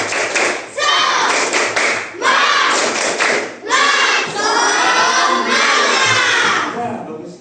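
A class of children does a rhythmic spirit clap, loud patterned bursts of clapping mixed with shouting voices, repeated in several rounds.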